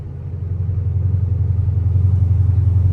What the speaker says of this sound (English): Got the downshift on this road with the long tubes